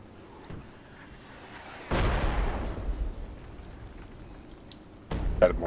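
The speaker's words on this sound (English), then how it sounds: "Mortars" Mortar shells exploding in a military shooter game: two heavy, rumbling booms land a few seconds apart, the first rolling off slowly, over a quiet ambient bed.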